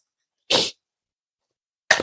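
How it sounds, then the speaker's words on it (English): Two sharp, loud, close-up human sneezes break an otherwise silent room, about a second and a half apart, each a short explosive burst. "I don't know why I'm sneezing."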